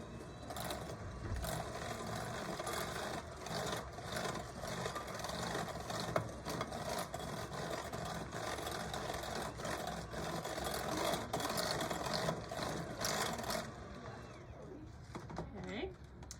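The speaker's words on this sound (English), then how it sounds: "I'm gonna mix that with the mixer." Electric mixer beating pumpkin cake batter, a steady close motor whir running unbroken for about fourteen seconds before easing off near the end, with a voice speaking at times under the machine.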